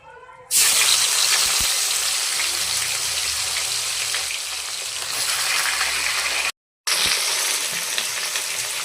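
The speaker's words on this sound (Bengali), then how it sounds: "এই মাছটা এবার আমি ভেজে নিচ্ছি।" Fish frying in a pan sizzles loudly and steadily at close range, starting abruptly after a brief quiet moment, with a short dropout near the end before the hiss resumes.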